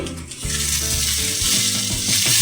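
A spatula stirs a chickpea filling frying with salt and gram flour in a pan, a constant bright sizzle under scraping strokes, close and fairly loud with no talk.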